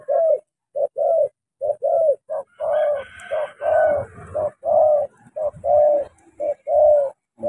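A caged spotted dove coos steadily in a repeated rhythmic pattern of short, mellow hoots with brief gaps, close and clear, with faint background rustling.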